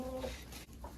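Hens clucking in a farmyard hen house where eggs are being collected, a short burst of close, overlapping clucks and calls lasting about a second.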